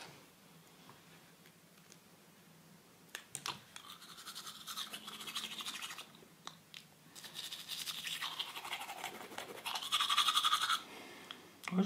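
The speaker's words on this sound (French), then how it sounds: "The first brossage de dents sur YouTube." A toothbrush scrubbing teeth up close, with rapid scratchy bristle strokes coming in bursts of varying loudness and short pauses, no talking.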